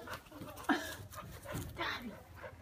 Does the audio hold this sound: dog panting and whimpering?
yes